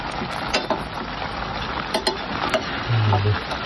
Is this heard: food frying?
yes